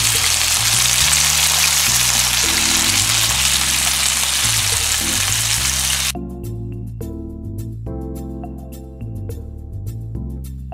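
A whole tilapia sizzles in hot oil in a pan for a fish biryani, giving a loud, steady hiss for about six seconds before the frying stops and music carries on alone.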